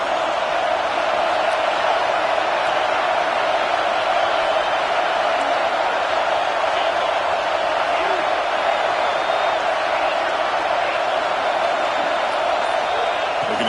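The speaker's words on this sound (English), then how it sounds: "It's early, but this crowd is fired up. Listen to this noise here." Steady roar of a packed football stadium crowd in the NCAA 25 video game, a dense continuous wash of cheering and noise held at an even level for the whole stretch with no clear breaks.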